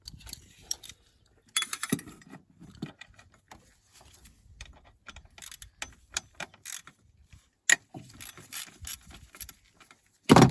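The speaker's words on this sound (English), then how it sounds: "there's two 10mm bolts there that we want to get out" Two 10mm bolts are undone on the EGR pipe of a 2015 Renault Master 2.3 dCi, heard as close, sparse clicks of a ratchet and metallic rattles and scrapes with short pauses between them.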